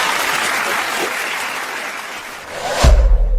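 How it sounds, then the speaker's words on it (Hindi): Audience applause for the first winner of a school quiz contest, a steady broadband clatter of many hands that swells louder near the end. "चलिए इनके लिए जोरदार तालियां लगाइए,"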